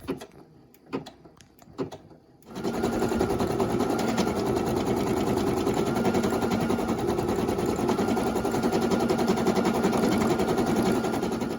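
After a few clicks and taps, an embroidery machine starts stitching green thread onto a towel, a fast, steady mechanical chatter that runs continuously and close by to the end.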